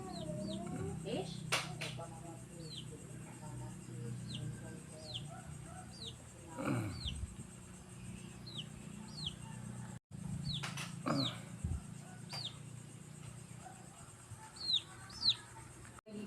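A small chick chirps repeatedly in short, high, evenly spaced peeps, faint and close, with a low background rumble and occasional quiet voices.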